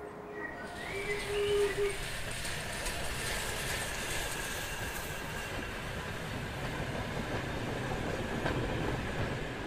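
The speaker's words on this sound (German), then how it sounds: "Ab 1850 fährt die Eisenbahn im Saarland" A train running on railway tracks in Saarland, Germany, giving a steady, continuous rumble of wheels on rails at moderate distance, with faint birdsong early on.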